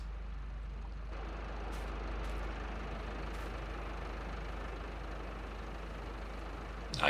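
A tractor engine drones steadily while working a field in a farming game, a constant low rumbling hum with a broad noisy roar that holds an even level from start to finish, no voices.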